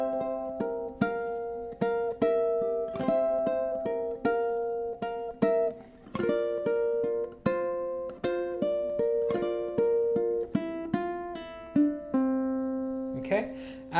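Ukulele strummed slowly through the opening bars of a song, bright plucked chords struck in a steady, unhurried rhythm with ringing sustain between strokes, played alone and close.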